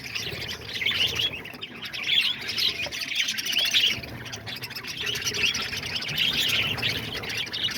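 Pet lovebirds, budgies and cockatiels chirp and squawk around a bird feeder, a steady, busy chatter of overlapping high tweets at close range with no pauses.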